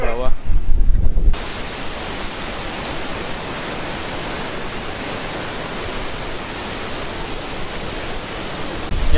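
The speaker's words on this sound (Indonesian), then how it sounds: "ada air terjun yang seolah-olah kayak membentuk teluk, di mana depan itu adalah laut lepas" Waterfall spilling into a bay at Banyu Tibo beach in Pacitan, facing the open sea, a loud continuous broadband roar of falling water that starts abruptly after a brief louder burst and stays steady throughout.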